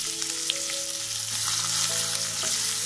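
Onions sizzle with turmeric in a pan over low heat for bhindi fry. The frying hiss is steady and close, with a faint stirring scrape and a background hum, and no talking.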